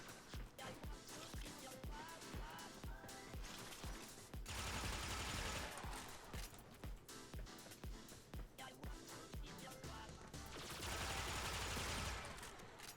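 Akstiletto Prime pistols in the Warframe video game fire in rapid bursts of rattling shots, with a short pause to reload between volleys, loud and continuous throughout.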